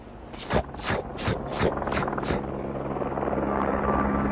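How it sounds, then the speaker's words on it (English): Rhythmic thudding of a helicopter's rotor blades as it comes up a canyon, a series of pulses that blur into a steady, building engine roar as it draws nearer. "the helicopter appeared, coming up the canyon"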